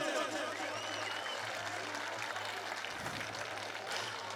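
Audience applause at a cultural programme for a Mahakali idol installation and consecration ceremony in Uttarakhand, a steady wash of clapping held at even loudness throughout, with a low hum running underneath.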